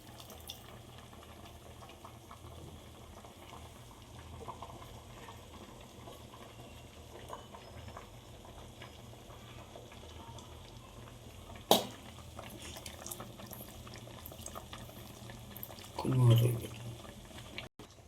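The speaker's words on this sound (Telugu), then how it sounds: "చింతపండు నీళ్ళైతే పోసుకుందాం." Tamarind water is poured into a simmering pot of boti curry, giving a faint, bubbling liquid murmur with a brief louder splash near the end, under occasional talking.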